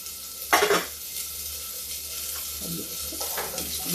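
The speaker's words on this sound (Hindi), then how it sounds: "उधर मेरा लहसुन प्याज भुन गया है" Garlic, cumin and onion fry in a pan over a low gas flame, giving a steady soft sizzle with a few sharper bursts of stirring and clatter near the start and toward the end.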